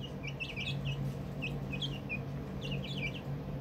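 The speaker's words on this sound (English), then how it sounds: "I love chickens" Chickens cluck and chirp in short, scattered calls over a constant low background hum, with no one speaking.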